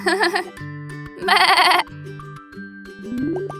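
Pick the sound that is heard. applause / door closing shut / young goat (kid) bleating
young goat (kid) bleating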